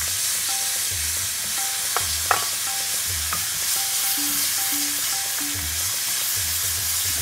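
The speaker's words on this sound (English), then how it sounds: "I'm going to add my curry paste." Curry paste, a heaping tablespoon of it, frying in a pan for a dhal and seafood curry, with a steady broad sizzle and a few sharp clicks and knocks of utensil against pan.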